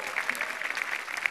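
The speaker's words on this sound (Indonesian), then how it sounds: "Beli tepuk tangannya meriah." Scattered audience clapping at a stand-up comedy open mic, thin and fairly quiet, with a few sharper claps poking out of a soft wash of crowd noise.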